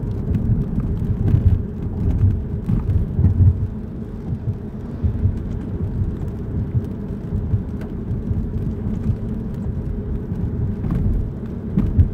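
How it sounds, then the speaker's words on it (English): Heavy rain and low rolling thunder surround a moving car during a nighttime thunderstorm, a steady loud rumble of road and storm noise with occasional faint ticks of raindrops. "And we got thunderstorms out here right now."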